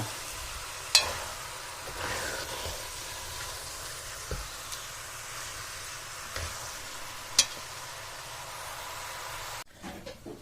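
Meat frying in a pot for bograch, a steady low sizzle running throughout with occasional soft scrapes and knocks as it gets stirred, fairly quiet and with no voices.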